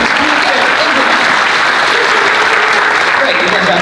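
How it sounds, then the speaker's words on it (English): An audience at a live performance claps loudly and continuously throughout, a dense, steady roar of applause from a full room. "the next will be to clap whenever we say the phrase, to the stage"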